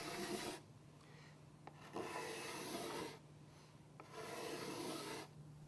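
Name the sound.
cabinet scraper smoothing a wooden surface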